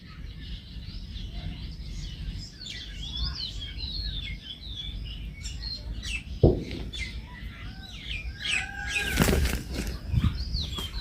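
A peacock's wings flap heavily once, then again in a louder, longer burst, over a background of birds chirping and calling outdoors.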